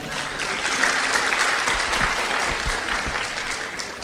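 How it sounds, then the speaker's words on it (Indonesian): Audience applause during an Indonesian Islamic sermon, a steady burst of many hands clapping together that holds for about four seconds before easing slightly, loud and close with no talk over it. "Kasih tepuk tangan dulu buat Pak Farid."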